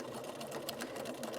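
A sewing machine back stitching along a zipper pouch, its needle chattering in a fast, even mechanical rhythm close up.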